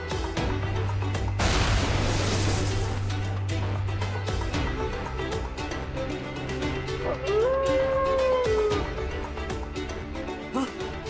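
Howl in the Jujutsu Kaisen anime, a rising and falling wavering cry that comes through a busy battle mix of blasts, rumbles and impacts, with voices heard around it.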